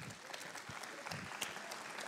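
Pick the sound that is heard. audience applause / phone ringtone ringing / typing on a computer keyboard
audience applause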